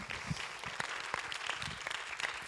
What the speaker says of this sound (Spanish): Den un aplauso al Señor por su palabra.